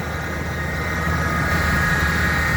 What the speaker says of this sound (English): show you the condition of the motor. With the motor running.